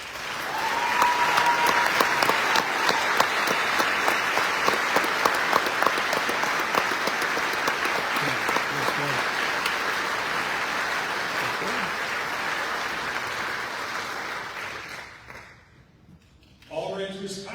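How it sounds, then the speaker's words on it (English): Sustained applause from a large audience at the 2025 Ranger Hall of Fame induction ceremony, a dense wash of clapping that holds steady for over fourteen seconds before dropping away, then a brief lift of crowd noise near the end. "Please join me in a round of applause."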